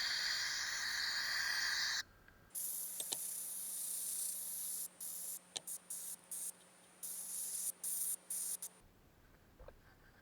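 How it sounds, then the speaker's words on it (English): Grit blasting a Solex carburettor casting to strip deposits, a loud steady hiss broken by repeated short stoppages and restarts, with a low mechanical hum underneath. "Grit blasting is the fastest way to remove these sort of deposits"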